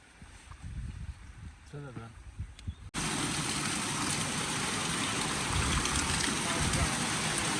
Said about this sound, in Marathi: पाऊस जाम भयानक आलाय